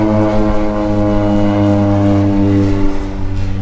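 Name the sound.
crop-dusting spray plane flying over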